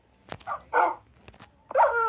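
Cartoonish dogs in a video game bark and yip in a few short bursts, close and clear, with brief pauses between the calls.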